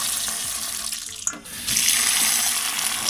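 Cold tap water gushes loudly into a kitchen sink while fresh coriander is rinsed, a steady close hiss that briefly dips and breaks around the middle before resuming full flow.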